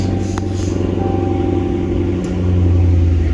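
A 2018 Dodge Charger Scatpack SRT 392 runs with a deep, steady engine rumble heard close by, rising slightly in loudness near the end.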